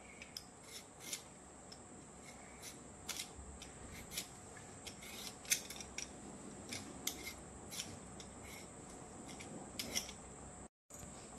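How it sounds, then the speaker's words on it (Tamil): Peeling the skin off a sweet potato, heard as close, quiet, repeated scraping strokes in an irregular rhythm, with no talking. "நான் இப்போ தோல் சீவிட்டு வேக வைக்க போகிறேன்."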